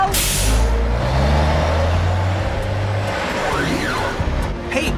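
An animated tanker truck drives and brakes, with a heavy engine rumble that gives way to a hissing air brake and a squeal, then thins out into lighter mechanical chirps near the end.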